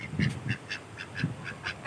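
Ducks quacking in a village during an overcast pre-rain day, a rapid run of about eight short nasal quacks in quick rhythm, fairly close but soft, with no talk over them.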